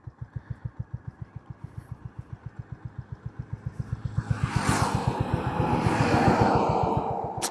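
A 350cc sports motorcycle engine idles with a steady, evenly spaced thump, then revs up into a louder, rougher roar.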